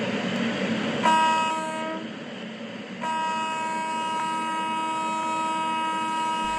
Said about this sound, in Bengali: ট্রেনের শব্দ, চাকার কড়কড়ানি, মাঝে মাঝে ছোট স্টেশনে থামা